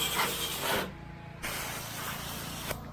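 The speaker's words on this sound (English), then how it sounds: "Thing's shooting out some bleach." Pressure washer spraying bleach during a house wash, a loud, close, steady hiss of spray that briefly cuts out twice before resuming.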